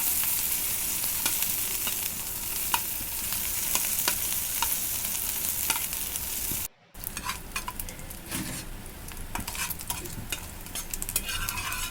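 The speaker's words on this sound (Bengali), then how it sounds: "এখন আমি কড়াইতে তেল দিয়ে শুটকিগুলো ভেজে নেব।" Dried fish fry in hot oil in a wok, giving a continuous crackling sizzle with the occasional scrape of a stirring utensil, briefly cut off near the middle before the sizzle returns busier and louder.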